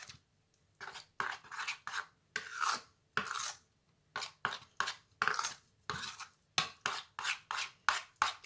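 Roasted eggplant and other baba ganoush salad ingredients being mixed together in a bowl, giving a steady series of close scraping, rasping strokes in an even rhythm with brief pauses, without talk.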